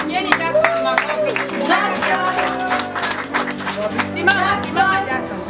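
A crowd at a school graduation ceremony in Kibera, Nairobi claps for a graduate, with scattered, moderately loud applause beneath someone speaking and other voices.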